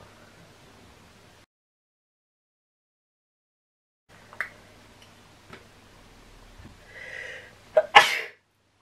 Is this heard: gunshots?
no